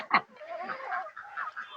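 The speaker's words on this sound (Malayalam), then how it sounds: "നമ്മൾ ഉണ്ടാക്കിയ ചോറ് തിന്നാൻ നമ്മുടെ കോഴികളൊക്കെ ഇവിടെ വരിയായി വരുന്നുണ്ട്." Chickens and ducks crowd together to feed on cooked rice, giving one sharp, close honk-like call followed by a steady stream of lower clucking and quacking murmurs from the flock.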